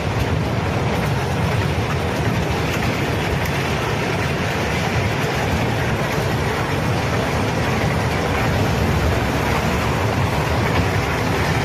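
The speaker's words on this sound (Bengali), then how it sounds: "তারপর টয় ট্রেনে আসলাম, আমরা টয় ট্রেন ঘুরলাম।" Dense, continuous roar of a moving toy train ride, a steady rumbling wash of wheel and motion noise heard close up for the whole stretch with no talking.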